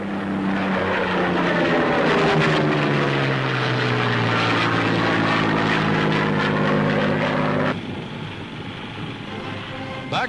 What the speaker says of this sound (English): United States planes attack enemy shipping.